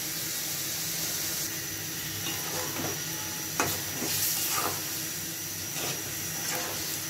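Fish belly pieces sauté in a pan with dried bean seeds, giving a steady, broad sizzling hiss throughout with a few faint clicks of stirring.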